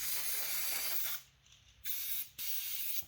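Brake cleaner sprays in three hissing bursts, a long one and then two shorter ones, during drivetrain removal on a 2017 Honda Forza scooter.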